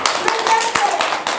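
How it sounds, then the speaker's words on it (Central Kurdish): Children clap their hands at a kindergarten after reciting a prayer, a quick run of sharp, close claps in an uneven rhythm, with voices mixed in among them. "دەی چەپڵە چی قایم لێرە"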